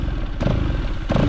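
A Bajaj NS200 motorcycle engine losing pickup after water got into it during heavy rain runs with a steady low drone, swelling in two brief surges as the throttle is worked.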